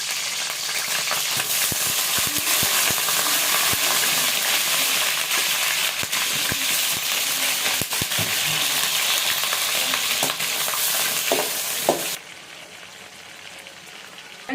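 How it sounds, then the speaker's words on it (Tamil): Eggplant pieces fry in hot oil for a village-style eggplant kuzhambu, a loud, dense sizzle close by with scattered clicks from stirring, running steadily before the sound drops away sharply near the end. "எண்ணெய் காஞ்சிருச்சு இந்த கத்திரிக்காய் எடுத்து இதை நல்லா ட்ரையாக வதக்கிக்கணும்"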